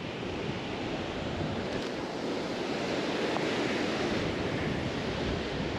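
Ocean waves breaking on a surf fishing beach, a steady, loud wash of surf with wind buffeting the microphone and no voices.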